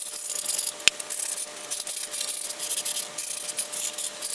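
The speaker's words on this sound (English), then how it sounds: "You're just going to use this to sand down the sides of the board just so it doesn't come undone on you." Sandpaper rubbing along the edges of skateboard grip tape, a hissy, rapid back-and-forth scraping that repeats steadily at close range, with one sharp tap near the start and no speech.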